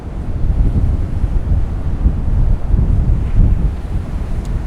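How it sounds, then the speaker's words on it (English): Strong wind buffets the microphone at a seaside campsite on Snake Island, a steady loud low roar with gusts swelling and easing throughout and no voices. "This spot's good. It's windy."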